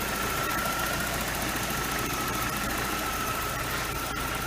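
A 1995 BMW 318i with 284,000 miles idles steadily while warming up, a constant close engine hum with a faint whine and slight knocking texture, no voices.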